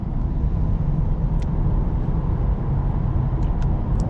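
Engine of a 2024 Lexus IS 350 F-Sport heard from inside the cabin while driving, a loud continuous road and engine drone with no distinct shift moment, with no talk over it.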